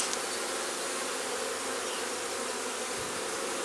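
Honeybees in a UK hive during a frame inspection, including large drones, making a dense, loud, continuous buzzing drone that fills the whole clip up close without pause.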